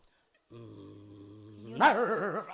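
A person's voice mimics a dog's growl, a steady low rumble that swells into a louder, wavering snarl toward the end, close and alone without other talk.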